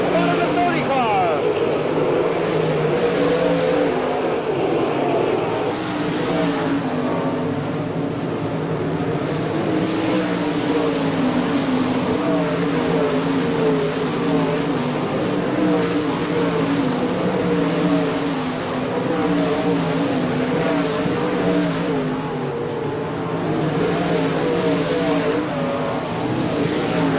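Sprint cars roaring around the Port Royal, Pennsylvania dirt track during an All Star Circuit of Champions night race, a dense, continuous engine drone that rises and falls steadily as the pack laps, loud and unbroken throughout.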